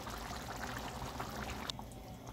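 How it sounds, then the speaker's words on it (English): Water poured into a pot of potatoes for boiling, a steady splashing pour that stops abruptly near the end, close and alone. "Just add some water to this in order for this potato to boil."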